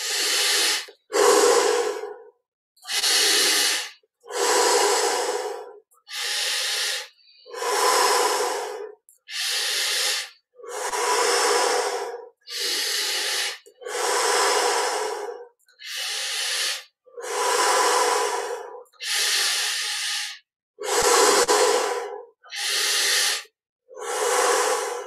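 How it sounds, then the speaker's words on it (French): Slow, deep breaths during a guided meditation, each long inhale or exhale a loud close airy rush, separated by short silences in an even rhythm for the whole stretch, with no talking. "20 respirations profondes dans cette position"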